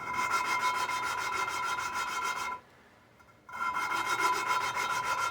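Valve lapping on a Chevy cylinder head, a continuous gritty rasping as the valve is spun against its seat, loud and close, with a brief pause in the middle before the scraping resumes, no talking.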